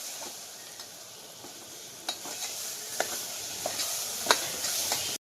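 Chicken masala and spices sizzle in oil in a pan as a spoon stirs and scrapes with scattered clicks, a steady close hiss that cuts off abruptly at the end.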